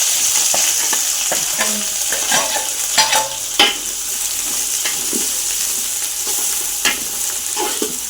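Onions, whole green chillies and rampe leaves frying in a pan for a Jaffna-style chicken porridge, a loud continuous sizzle with repeated clinking and scraping stirs throughout.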